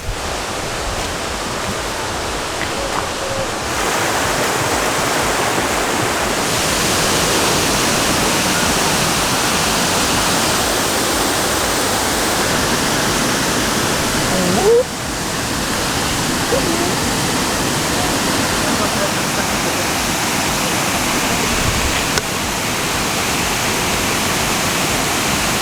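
Jungle waterfall in Chiang Mai, Thailand, roaring as a loud, steady broadband rush of falling water, constant throughout with small shifts in level as the listener moves closer.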